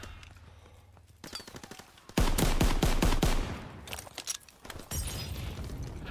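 M1 Garand rifle fire in a WW2 shooter game: a rapid string of loud, sharp gunshots in a cluster, then scattered further shots and impacts against a noisy battle backdrop.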